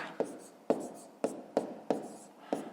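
Numbers written by hand for a fifth-grade math exercise, six quick pen strokes scratching on paper in a regular rhythm, close and fairly quiet.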